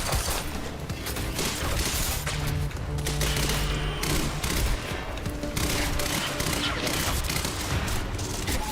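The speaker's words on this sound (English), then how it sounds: "Why is my gun firing like that? I do not appreciate it. It's burst fire." A gun set to burst fire in the video game Quantum Break fires repeatedly, dense rattling volleys of shots with loud booms and clanks throughout, close and continuous.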